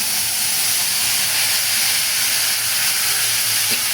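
Ground spice paste of coriander, cumin, ginger and dried chili frying in a pan for a vegetarian dish, giving a steady, loud broadband sizzle and hiss that holds evenly throughout with no voices.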